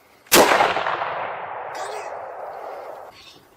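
A single gunshot fired outdoors while hunting: one sharp, loud blast followed by a long, rolling echo that fades over about three seconds.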